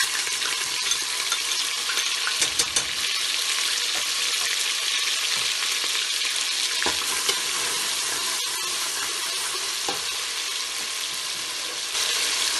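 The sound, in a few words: onion, garlic and ginger frying with whole garam masala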